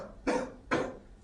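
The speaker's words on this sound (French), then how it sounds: "Je vais vous demander de tousser un petit peu." Two short, sharp coughs from a patient during a clinical cardiovascular examination, spaced about half a second apart, close by, with no talking.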